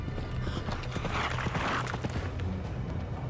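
Horse hooves clip-clop in a quick galloping rhythm over a rumbling background, a rider racing through the countryside at night, moderately close and steady without speech.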